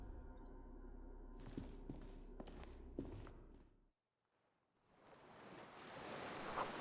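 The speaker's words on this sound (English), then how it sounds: "Water rushes below, far down below." Water rushing far below in the video game Disco Elysium, heard with a few footsteps at first. The sound cuts out briefly, then swells back into a broad, hissing roar.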